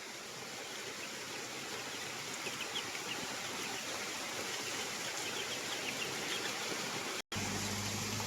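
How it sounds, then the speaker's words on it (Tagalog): A creek on a farm property flows in a steady, fairly faint wash of water, with a brief dropout near the end and no talk. "Ito po ay merong creek."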